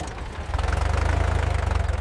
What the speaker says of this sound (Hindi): कितना खूबसूरत ट्रैक्टर है।